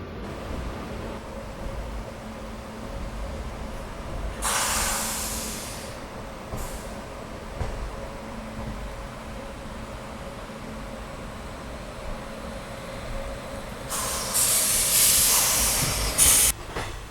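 A train pulling out of Jolarpettai Junction, heard from on board as a steady low rumble with bursts of hissing air near the start and again toward the end, no voices.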